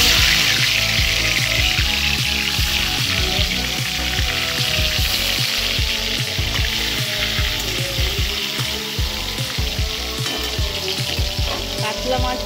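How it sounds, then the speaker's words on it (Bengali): Katla fish pieces fry in hot oil in a wok, producing a loud, steady sizzle and crackle with irregular pops and spatters that run the whole time, close up, with no voices. "এইবার আমি কাতলা মাছগুলো হালকা করে ভেজে নেব।"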